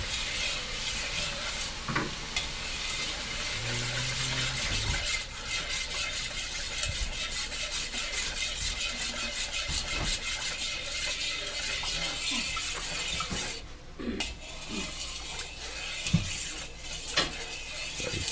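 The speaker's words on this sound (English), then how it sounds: "We just stir it up." A spoon stirs a seamoss punch sweetened with agave and dates, giving a steady soft swishing and scraping against the container, close and continuous with occasional light knocks.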